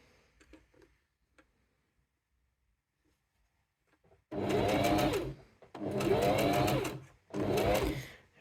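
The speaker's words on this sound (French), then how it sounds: "Et je viens finir ma couture." Sewing machine stitching a seam in fabric on a small sponge-cloth pouch, heard as three loud, steady whirring runs with brief pauses between them, following a few seconds of near silence.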